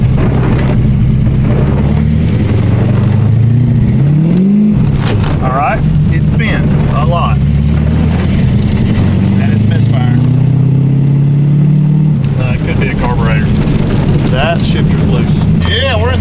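A car's engine runs loud and close through a first drive, its pitch sweeping up and down with each rev and gear change, with wind buffeting the microphone and someone talking over it at times.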